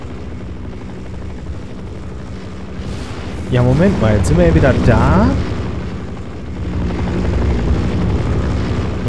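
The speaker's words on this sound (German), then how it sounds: "Und da hinten ist der Heli." In the shooter game Half-Life 1 Source, a helicopter's steady low rotor drone rumbles continuously in the distance while a player talks over it.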